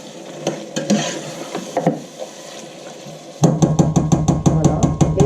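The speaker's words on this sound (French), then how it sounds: "je vais laisser un petit peu revenir cet agneau" Lamb pieces turned in hot butter in a pan, giving a moderate sizzle with scraping and knocks as they are moved. A burst of rapid, regular clicking or tapping follows and carries on to the end.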